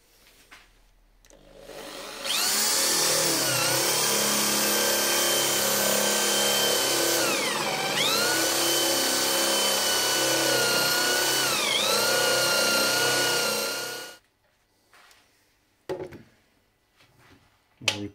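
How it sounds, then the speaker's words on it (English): A power drill boring holes in wood for a stool with through-wedged mortise and tenon joints, whining loudly and steadily for about twelve seconds with two brief dips in pitch under load, then stopping, followed by a few light knocks. "just line up the drill."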